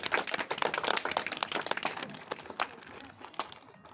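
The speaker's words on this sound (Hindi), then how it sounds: "इनके लिए तालियां बजाइए" A small group of people claps their hands during an education visit. The claps are brisk and uneven, densest at first, then thinning to a few scattered, fairly quiet claps.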